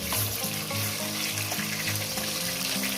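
Katla fish frying in hot oil for an Eid poppy-seed curry, a loud steady close sizzle with bubbling crackle that runs throughout and never lets up.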